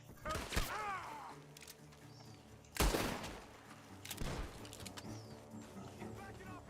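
Sharp bursts of gunfire from the video game Red Dead Redemption 2 crack out at irregular intervals, a few loud close shots among quieter ones, with scattered voices between them.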